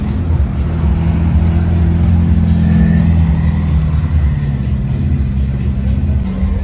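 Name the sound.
supercars arriving, engines revving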